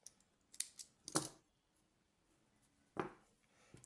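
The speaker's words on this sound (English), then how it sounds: "I'll chain 1 and cut off my yarn." Scissors snipping through crochet yarn in a few quick, quiet cuts close by, with faint handling sounds between.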